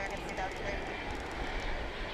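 A Mesa Airlines passenger jet at DFW International Airport produces a steady, moderately distant engine rumble and hiss that holds throughout.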